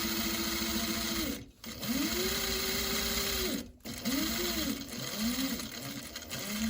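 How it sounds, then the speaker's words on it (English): A sewing machine runs close up, stitching a French seam along the side of a fabric bag. It makes steady whirring runs that stop briefly twice, then comes a short burst of back-tack stitching. Nobody speaks. "making sure our needle is a centimetre away from the edge, and we're sewing down the side"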